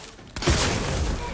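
Turret gunfire in the video game The Outer Worlds 2 breaks out as a sudden loud burst after a quiet moment, then continues as sustained rattling fire through to the end.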